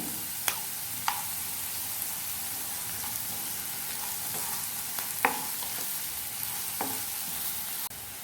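A pan sizzles quietly and steadily while egg tawa pulao cooks, with several sharp clinks of a utensil against the pan.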